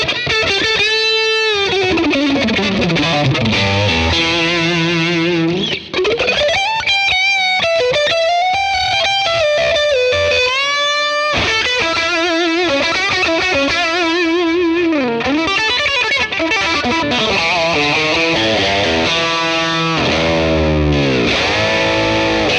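Distorted electric guitar runs through a capture of a 1966 Fender Blackface Bassman amplifier, drenched in reverb, with sustained bends and gliding melodic lines played loud and alone, with no voices.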